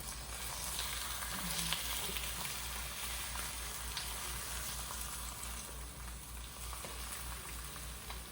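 Eggs frying in a pan give off a steady, even sizzle with small crackles and pops throughout, alone with no talking.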